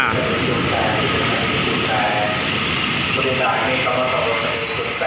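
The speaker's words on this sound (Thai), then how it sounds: "ช่วงนี้เขามาบ่อยจังเลยขบวนเนี้ยนะครับ คุณปู่ GK 4044นะครับ" A train hauled by the GK 4044 locomotive stands at Chum Saeng station in Thailand, giving a loud, steady rumble and mechanical drone with faint squealing tones and a high whine throughout, and no clear talking.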